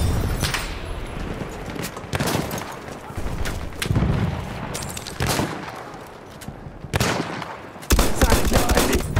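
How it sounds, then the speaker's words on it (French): An enemy machine gun fires in bursts during a World War I–style shooter battle, with sharp volleys, booms and impacts close by over several seconds and brief in-game voice callouts between them. "Mitrailleuse ennemie, par là!"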